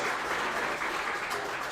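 Steady, full applause from a group at a girls' flag football team gathering, a continuous dense clapping wash that holds at constant loudness from start to finish without speech.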